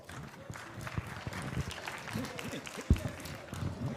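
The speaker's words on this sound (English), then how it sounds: "Let's give him a round of applause" Applause from the crowd at a youth crime prevention gathering, a diffuse rumble of clapping mixed with crowd noise and overlapping voices, with one loud thump near the end.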